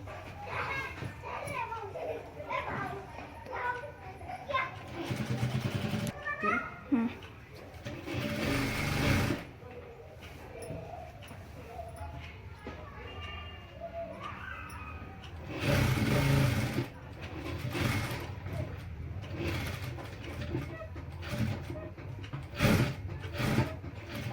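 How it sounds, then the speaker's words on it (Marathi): A sewing machine stitching a ghagra skirt made from an old saree, its steady rapid whir running in stretches, with loud bursts between, while someone talks over it; children and a dog are faintly audible in the background. "संपूर्ण राऊंड जेवढा आहे ना आपला तेवढ्या राऊंडला आपण शिलाई मारली बघा असं"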